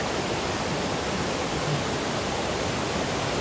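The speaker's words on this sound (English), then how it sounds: "The ocean is loud." Loud ocean surf at Torrey Pines, Del Mar, a dense, unbroken roar of waves that stays steady and broad like white noise, without distinct breaks.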